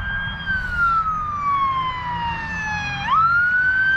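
An Illinois state police car siren wails past on a street in Plainfield, its tone sliding slowly downward before jumping back up, loud and close over steady traffic noise.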